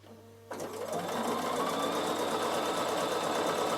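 A domestic Bernina sewing machine runs a steady zigzag stitch around a curve of wool applique, starting suddenly after a brief quiet moment and then humming continuously and close at an even rhythm with no talk.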